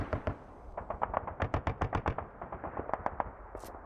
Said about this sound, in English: mortars, mortars, mortars, mortars